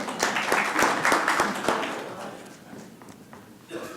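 A scattered round of hand clapping in a city council budget briefing, with distinct claps at first that thin out and die away within a few seconds.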